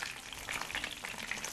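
Egg rolls frying in hot oil, a steady close crackling sizzle with dense popping bubbles throughout, no talking.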